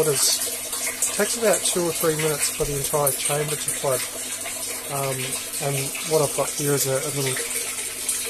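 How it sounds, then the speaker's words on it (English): Water flows and gushes steadily through a hydroponic flood-and-drain system, a continuous watery rush sitting under a man's close, continuous talking. "You can see here that the water's flowing through here. It's making its way through the system."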